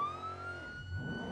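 A police car siren in the BeamNG.drive driving game wails with a steady rising tone and harmonics. A low engine rumble swells beneath it toward the end, and no one speaks.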